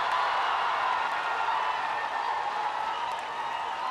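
Crowd at a field hockey match applauding and cheering after a penalty corner goal by India against Australia, a dense sustained roar of clapping that stays even throughout.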